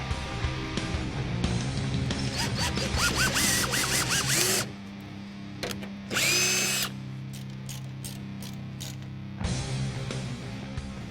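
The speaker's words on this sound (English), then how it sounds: "I'm going to drill a small hole." A power drill whirs in several short bursts that rise and fall in pitch, drilling a small hole while fitting outer beltline weatherstrip on a 1971-1973 Mustang, with quieter pauses of low machine hum between them.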